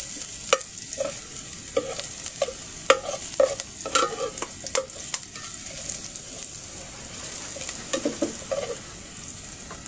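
Garlic sautéing in a hot pan for chicken feet adobo, a steady close sizzle with a string of sharp clicks and scrapes from stirring, no voices.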